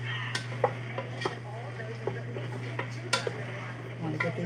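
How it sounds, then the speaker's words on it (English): A spoon stirs canned sauce and ground beef in a pot for homemade spaghetti sauce, giving repeated scraping knocks and clinks at an uneven rhythm over a constant low hum, close and moderately loud. "I'm going to start stirring this up a little bit before I get the other stuff in."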